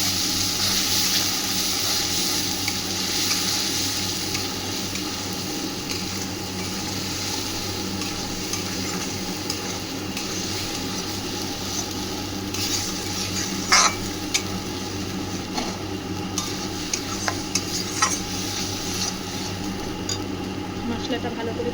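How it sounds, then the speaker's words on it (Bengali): Spice paste being stir-fried in a pan for a home-style Bengali mushroom curry, a steady close sizzle with scattered scraping strokes of a spatula, running continuously under a faint background hum. "মশলাটা ভালো করে কষিয়ে নেব।"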